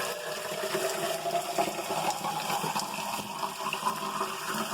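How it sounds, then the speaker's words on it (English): Indoor running water from a household tap or fixture, a steady hissing gush at moderate level continuing throughout with no speech over it. "I'm so sorry you hear the water running."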